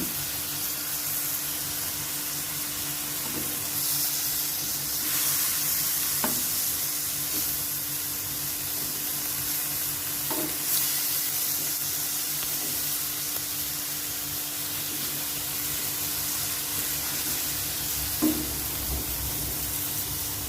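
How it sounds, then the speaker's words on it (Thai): Shrimp, squid, baby corn and snow peas stir-fried in a hot pan give a steady loud sizzle throughout, with occasional scraping stirs and clanks standing out now and then. "ต้องผัดให้มันกรอบ"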